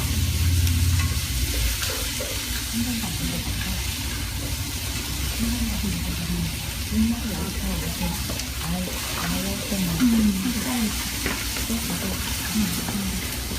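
Frozen rice pasta stir-fried with sauce in a hot pan, a steady loud sizzle with stirring scrapes running throughout, no voices over it.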